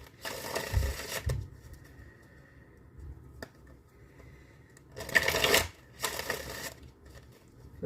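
Tarot cards are shuffled in two bursts of quick riffling and flapping, close and fairly loud, with quiet handling sounds between them and no talking.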